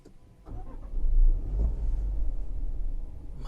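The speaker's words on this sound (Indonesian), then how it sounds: "Maka mobil akan segera menyala." A Land Rover Defender 90 P300 starts with a push button: a brief crank, then a low rumbling catch that settles into a steady close idle, heard alone with no talk.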